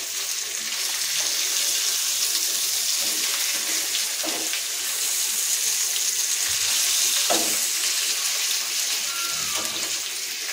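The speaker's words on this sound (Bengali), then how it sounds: "অপর দিকটাও আমরা এইভাবে আরও মিনিট 5 ভাজা করে নেব।" Fish is fried on its second side on a tawa griddle, giving a steady, close, loud sizzle with soft crackles and a few scraping stirs from a spatula.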